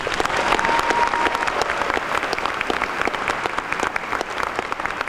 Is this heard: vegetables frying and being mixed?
no